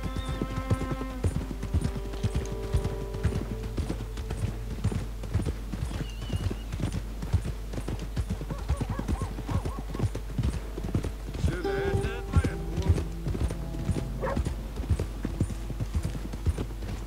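Rhythmic horse hooves clip-clop steadily throughout in the video game Red Dead Redemption 2, with game music, scattered effects and a few voices over them.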